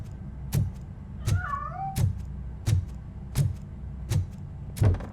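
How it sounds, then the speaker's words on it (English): Cat meowing in the video game Robocop: Rogue City, a few short close meows standing out over a steady low game ambience and repeated thumping footsteps. "The cat is fine."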